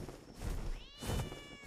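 A cat meows in the video game ARK, a couple of clear, close, drawn-out cries with a wavering pitch, heard alone without talk.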